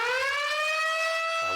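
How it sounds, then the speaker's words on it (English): A wailing electronic alarm sounds in the Factory IO simulation game, one loud sustained tone with rising pitch that holds for over a second before cutting off. "Alarm goes off again."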